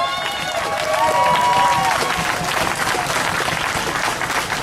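Loud crowd applause and cheering at an outdoor housing justice rally for a hunger striker, dense clapping sustained throughout with whoops and voices mixed in.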